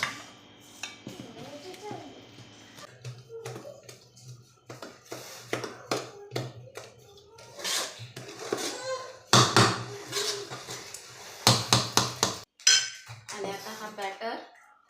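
Batter that has risen well being stirred and mixed in a bowl at home, a run of clinks, taps and scrapes against the bowl, close and moderately loud, with someone talking intermittently.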